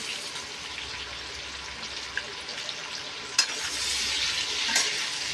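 Onion frying in a pan with cardamom, cloves and cinnamon for fish pulao, a continuous close sizzle with occasional stirring knocks, growing a little louder toward the end.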